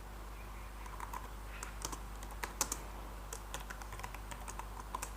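Typing on a computer keyboard, soft and close, with irregular keystrokes and small clusters of clicks spread steadily across the whole stretch over a low, quiet background hum.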